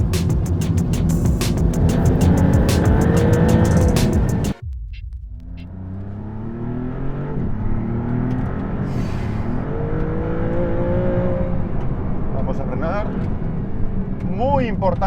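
A Maserati MC20 GT2 Stradale sports car is driven, its engine a loud, steady cabin drone that drops for a moment, then builds again with rising revs, under continuous talk from a man.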